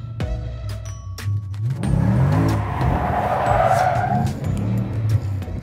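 A car drifting on a practice course lets out long, loud tire squeals over a revving engine, and the squeal builds and holds through most of the stretch.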